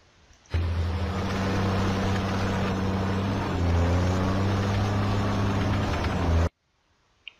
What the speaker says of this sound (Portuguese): Um trator.